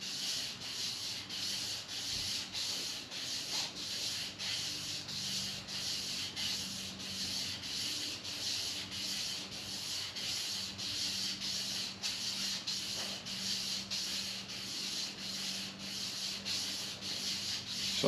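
A shoestring and sandpaper polish the crankshaft of a 1957 Chevrolet Bel Air, giving a steady, fast rhythmic rubbing and scraping that runs on continuously and fairly quietly, with no talking.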